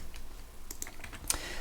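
Quiet keystrokes tapped on a computer keyboard, a few scattered clicks with one sharper press near the end, over a low room hum with no voices.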